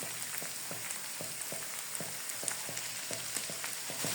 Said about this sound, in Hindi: और मटर डाल के भी हम अच्छी तरह भुनाई करेंगे।